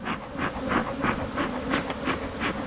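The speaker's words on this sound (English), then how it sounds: "So now I'm just smoking these bees down." Honey bees buzzing while being calmed with smoke as a cell builder colony is set up: a close, steady hum that swells in regular pulses, with no talk.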